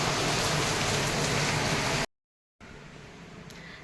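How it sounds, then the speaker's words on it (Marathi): Heavy rain pours in a dense, steady hiss, breaks off in a short silence, and then resumes a little softer. "जोरात पाऊस आलाय"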